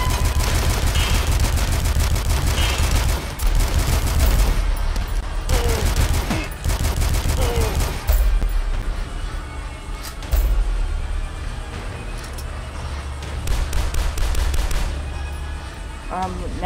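Dense, loud gunfire from a shooter in the Dusk video game aimed at a turret, bursts of rapid shots running nearly continuously with brief gaps, a voice heard faintly among the shots.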